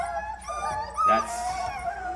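A dog at bath time lets out a short run of high, thin whimpers and whines, close and fairly soft, with one louder yelp-like cry in the middle.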